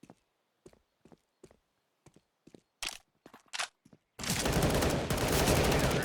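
In a competitive video game match, sharp isolated gunshots pop in a quick uneven series, then a sustained loud spray of gunfire fills the final two seconds, up close.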